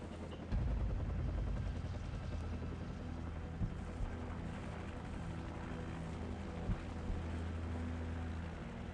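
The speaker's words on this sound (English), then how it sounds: "Take out that helicopter." A helicopter in Call of Duty 4 keeps up a loud, steady rotor thump and engine drone with a deep low rumble, and a few faint impacts come through.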